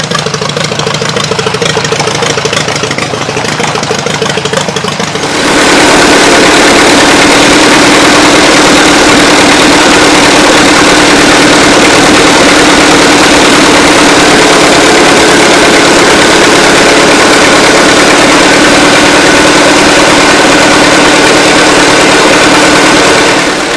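An old salvaged tractor engine that has sat unused for a long time, never put under load, idles loudly and steadily at close range, a dense continuous rumble that swells up abruptly after a quieter opening few seconds.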